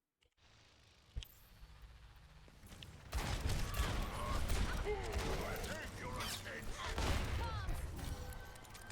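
Ashe fires dynamite during a chaotic Overwatch match on Nintendo Switch: a sharp crack, then dense explosive bursts and gunfire that stay loud and continuous through the second half.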